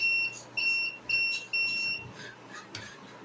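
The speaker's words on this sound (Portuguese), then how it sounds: "o LED do giga de teste, do teste de continuidade se acende e o bip sonoro é emitido" A continuity tester emits a high electronic beep four times in an even on-off rhythm, each tone about half a second long, then stops, leaving faint room noise.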